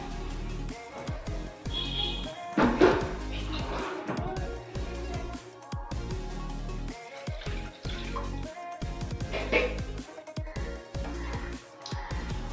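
Rice being washed by hand under running tap water, with water splashing and swishing in a bowl over a steady flow, irregular sloshing bursts and faint background noise throughout.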